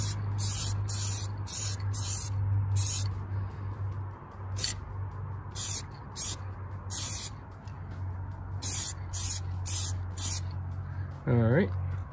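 Spray can bursts applying a second coat of black paint to a car emblem, a series of short repeated hissing blasts in groups, close and fairly loud over a steady low hum, with a voice speaking briefly near the end.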